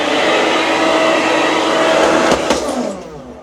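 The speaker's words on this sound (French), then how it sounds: "Le sèche-cheveux" A hair dryer in a hotel room at Disney's Newport Bay Club, Disneyland Paris, blows with a steady loud whooshing hum, then winds down with a couple of clicks near the end.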